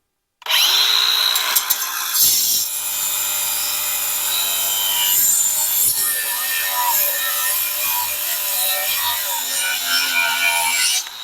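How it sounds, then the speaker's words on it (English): A power tool cuts a fixed metal hinge off a gate outdoors. A loud, steady, high whine starts abruptly and runs for about ten seconds with grinding texture and slight pitch shifts, then stops sharply. "So we're gonna try to cut this fixed hinge off"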